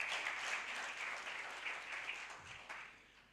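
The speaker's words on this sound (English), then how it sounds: "Big round of applause." An audience at a campaign launch applauds a Woman MP for Kapchorwa District in a sustained, fairly distant wash of clapping that slowly fades, with no talk over it.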